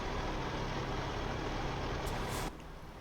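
A Cummins KT truck engine in American Truck Simulator, hauling a heavy load, drones with a loud, steady, broadband roar that drops abruptly to a quieter rumble near the end; no talking.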